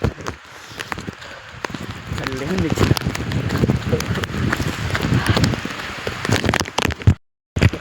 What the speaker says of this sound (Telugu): ఇప్పుడు మంచిగా చాలా వర్షం పడుతుంది